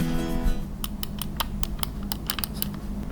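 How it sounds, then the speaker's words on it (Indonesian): Clicking buttons on a TourBox drawing controller, a run of about a dozen sharp, mouse-like clicks in irregular rhythm, close and crisp over a steady low hum, no voices. "Oh, dia klikinya kayak mouse."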